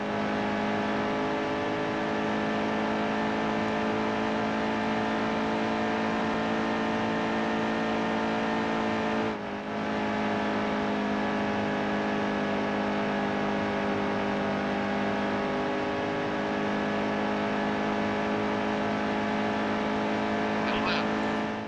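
A NASCAR stock car engine in the racing game NASCAR Heat 2 drones at a steady high pitch for the whole stretch, loud and continuous, with a brief dip midway and faint rumble beneath.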